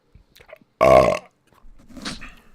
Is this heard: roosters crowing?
no